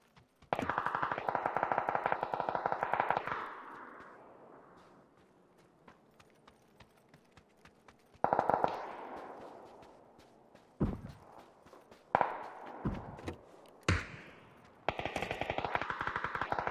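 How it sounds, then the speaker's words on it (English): Gunfire in a shooter video game bursts out in several loud volleys separated by quieter stretches, with scattered single shots and faint footsteps in between. "Yeah, he's shooting."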